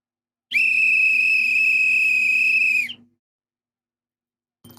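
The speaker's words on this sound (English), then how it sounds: "And there's the whistle, the end of the first half." A referee's whistle blows one long, loud, steady blast of about two and a half seconds to end the first half of a France versus Paraguay World Cup football match, followed by silence.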